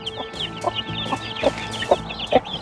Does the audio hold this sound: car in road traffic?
no